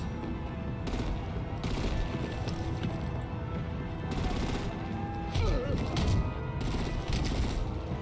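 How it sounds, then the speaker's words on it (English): Artillery and gunfire in Batman: The Enemy Within sound as rapid automatic bursts that come and go over a dense, loud battle backdrop, with voices shouting through the action. "Break out the artillery and disable their vehicles!"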